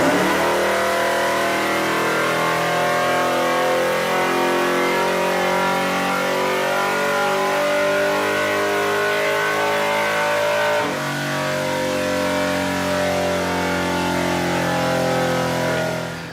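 A naturally aspirated 6.0-liter LS V8 revs hard and continuously on a chassis dyno, a loud, steady mechanical roar that briefly dips in pitch partway through before climbing again and cutting off at the end.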